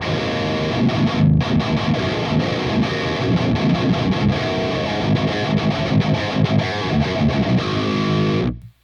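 Heavily distorted metal guitar played through the Audio Assault AHM 5050 amp simulator set to its EL34 power tubes, a dense, loud, continuous chugging riff that cuts off abruptly at the end.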